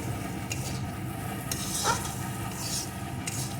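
Gram flour and cauliflower fry in a pan while being stirred, giving a steady, soft scraping and low sizzle with a few faint utensil scrapes, heard alone without talk.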